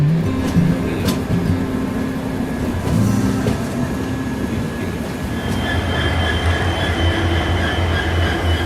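Overnight train running toward New Jalpaiguri, heard from inside the carriage: a steady loud rumble and rattle of wheels on track, with high squeals and hissing tones rising in the latter half.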